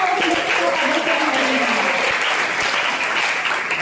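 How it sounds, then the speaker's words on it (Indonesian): Dense, steady applause from a university student audience at a dialogue event in Yogyakarta, continuous and even throughout with no talk over it. "Sekali lagi tepuk tangan untuk Pak Iman."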